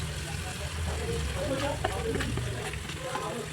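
Chopped onions browning in a pan, a faint steady sizzle and crackle with a voice talking over it.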